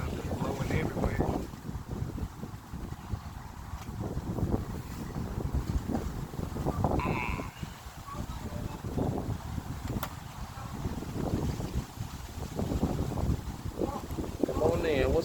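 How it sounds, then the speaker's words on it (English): Strong wind gusts steadily across an outdoor microphone, a loud continuous rumbling roar that swells and dips throughout, with a few faint voices buried under it. "Stuff is blowing everywhere."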